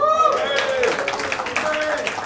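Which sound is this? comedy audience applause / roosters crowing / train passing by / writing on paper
comedy audience applause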